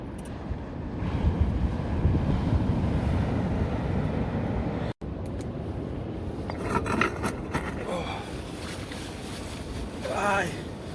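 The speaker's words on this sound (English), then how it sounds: "So that wind's bitter." Bitter cold wind buffets the microphone steadily on a UK seaside shore during cod fishing, with a roar of surf behind it, a brief cut midway, and a person talking under the noise later on.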